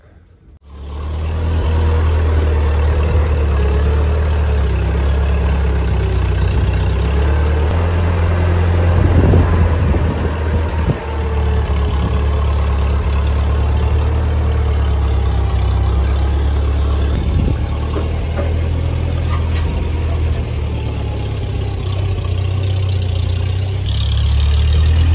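Massey Ferguson 35 Deluxe tractor with power steering, its engine idling steadily at close range with a deep, even low thrum throughout and a brief louder patch partway through, no speech.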